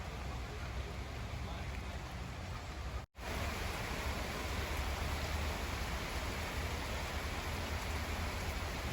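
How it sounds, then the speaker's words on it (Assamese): Heavy rain pours at a family resort homestay as a dense, constant roar with no gaps, broken only by a sudden instant of silence partway through. "বহুত বৰষুণ হৈ আছে"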